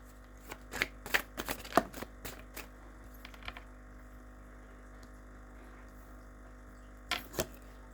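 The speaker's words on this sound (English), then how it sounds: "All these cards come out in the pre-shuffle except for the invisible and the chaos." Oracle cards riffled and shuffled in quick crisp bursts, a cluster of snappy flicks early on, a quiet stretch, then two more short shuffles near the end, close and fairly soft.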